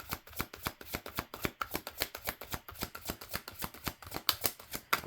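Tarot or oracle cards are shuffled and pulled for a reading, giving a steady run of crisp, close riffling slaps that repeat in a quick, even rhythm.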